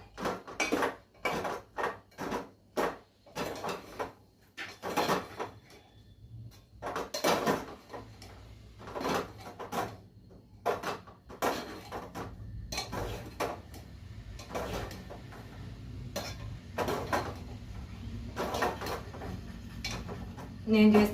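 A spoon stirs chopped brinjals in a cooking pot for a home-made brinjal and tomato curry, giving repeated sharp metallic clanks and scrapes in an irregular rhythm, with quieter shuffling in between.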